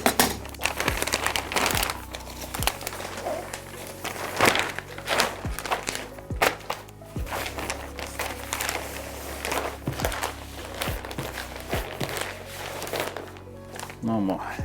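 PVC tape and plastic sheeting being handled while lining a shadow box: close crinkling and crumpling with repeated soft thumps and taps over about fifteen seconds, steady and fairly loud throughout.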